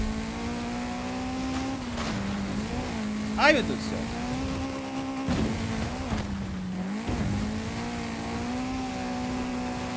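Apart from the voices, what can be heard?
race car driving in video game Forza Horizon 5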